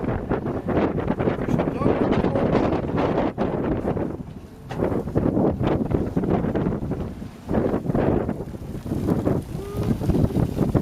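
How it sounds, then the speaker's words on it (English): Strong wind buffets the microphone while moving outdoors on a fishing and bird-hunting outing: loud, gusty rumbling roar that surges and dips throughout, with faint voices under it. "Wind while you move."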